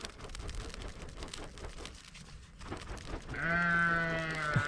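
A sheep lets out a loud, wavering bleat near the end, preceded by rustling and scraping noises close by.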